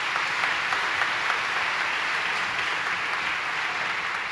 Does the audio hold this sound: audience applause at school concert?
yes